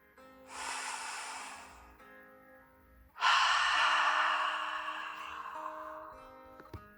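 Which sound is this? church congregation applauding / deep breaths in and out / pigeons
deep breaths in and out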